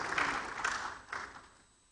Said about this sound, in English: Please do a big round of applause.